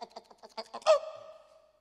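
A person imitates a hen clucking with a quick series of short, rhythmic clucks that rise into a longer drawn-out squawk, heard close and alone.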